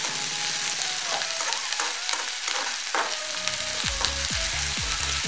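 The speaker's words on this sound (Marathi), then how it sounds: "जिरं भाजले, कांदा टाकूया, गॅस मोठा ठेवूया थोडा कांदा भाजीपर्यंत" Onion fries with cumin in a pan over a high flame, a dense close sizzle with scraping stirs, then a run of rhythmic spatula knocks against the pan toward the end.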